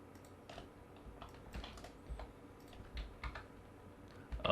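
Quiet, irregular clicks of computer keyboard keys being pressed while editing video, scattered single taps and short clusters over low room hiss, with a slightly louder tap at the close.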